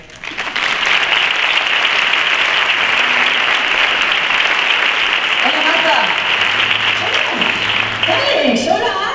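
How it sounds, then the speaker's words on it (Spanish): Loud, sustained applause from a crowd at a Santa Cecilia band music concert rolls on steadily for several seconds, then thins near the end as voices begin to talk over it. "Un fuerte aplauso para Marta Valverde."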